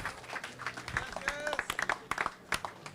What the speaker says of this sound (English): So, final round of applause for everybody here.